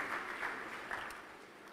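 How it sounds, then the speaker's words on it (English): Audience at the Connected Africa Summit opening ceremony at the Edge Convention Centre clapping, a dense, sustained round of applause from a crowd that tapers slightly toward the end. "Big applause for our keynote speaker."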